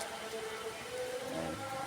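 Faint, steady rain patters down on a surface in a continuous soft hiss, with no voices heard.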